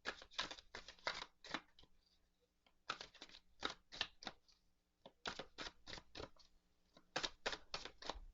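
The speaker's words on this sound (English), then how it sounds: "So let's get to shuffling." Tarot cards shuffled by hand in quick riffling bursts of dense papery flutter, several close-up runs separated by short pauses, with no talking.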